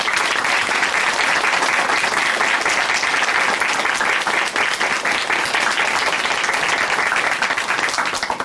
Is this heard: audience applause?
yes